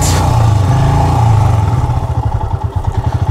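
Royal Enfield motorcycle engine churning through deep muddy ruts in dense vegetation, a steady loud mid-pitched drone that breaks into uneven chugging pulses as the rider works the throttle.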